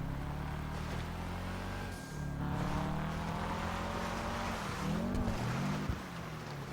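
Engine of a Sultan rally car driven hard on dirt in GTA 5, a steady droning motor with rising and falling revs and pitch sweeps near the end, loud and continuous with no talk.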